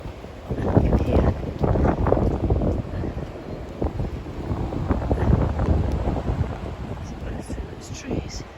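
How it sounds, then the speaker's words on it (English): Strong storm wind buffets the microphone in a garden, in heavy, rumbling gusts that rise and fall. A voice may be faintly mixed in under the blustering. "Although it's still really windy."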